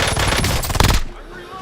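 Rapid automatic gunfire in a tactical first-person shooter video game, a dense loud burst of shots that cuts off abruptly, leaving a quieter game background.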